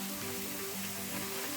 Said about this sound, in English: the matchstick carrots and the onions and ginger are sizzling nicely in the